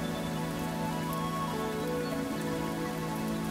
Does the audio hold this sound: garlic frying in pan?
no